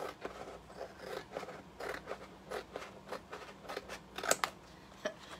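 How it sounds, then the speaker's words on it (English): Scissors snip repeatedly through a cardstock design, a steady run of short close cuts with a few sharper louder snips near the end; no one speaks. "I'm gonna cut it out right now using my handy dandy scissors"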